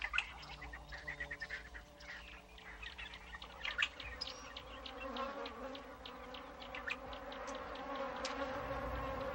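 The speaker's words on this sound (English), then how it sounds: "African bees, like everything else, are desperate for sustenance." African bees buzz steadily through the hot, dry savanna air, a faint, continuous insect drone with scattered brief chirps and ticks over it and no voices.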